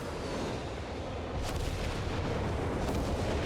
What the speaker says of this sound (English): Here comes the Nubelwerfer barrage.